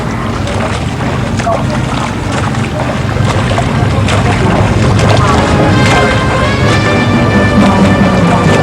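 A boat moves across the channel in strong wind, with steady loud rushing of wind and water over a low engine drone throughout, and a voice speaking underneath.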